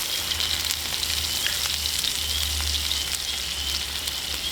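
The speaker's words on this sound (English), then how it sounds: "Try to just flip my steak one time with these thick T-bones." A thick T-bone steak sizzles in a pan at a camp cookout, a loud, dense crackle and hiss with small pops and a low rumble under it, running unbroken and with no talking.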